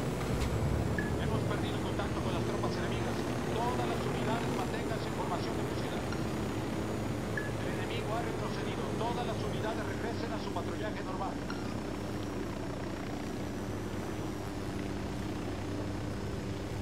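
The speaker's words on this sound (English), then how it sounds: "Oh no, the helicopter's going." A helicopter in the video game Ghost Recon Wildlands drones steadily with a whirring rotor hum, fading slightly as it flies away, while people talk over it.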